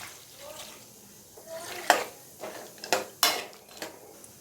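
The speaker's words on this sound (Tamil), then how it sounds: "இதில் தண்ணி சேர்த்துக்கிறேன்." Water is added to a cooking pot for sambar, with a soft splash and faint splashing alongside sharp metallic clinks of the pot and utensils, close by and without talk.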